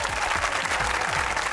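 Studio audience at a comedy talk show breaks into loud, dense applause, a steady wash of clapping close to the microphone with no gaps.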